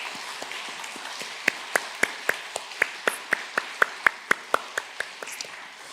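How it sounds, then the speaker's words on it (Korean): Sparse, evenly spaced hand claps ring out in a reverberant church hall as the congregation applauds the Uriam choir at a Sunday service, faint at first and then louder and steadier before tapering off. "우리 우림 찬양대를 위하여 격려와 축하의 축복의 박수를 한번 드리도록 하겠습니다."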